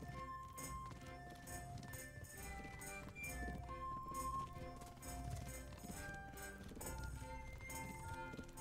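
Horse hooves clip-clop at a steady run while riding in the video game Kingdom Come Deliverance, faint beneath a busy game soundtrack with music and ambience.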